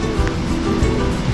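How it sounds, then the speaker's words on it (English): Water rushes over a major river dam with ship locks in Miltenberg, Germany, a loud, steady roar that carries on without a break. "Beautiful waterfall."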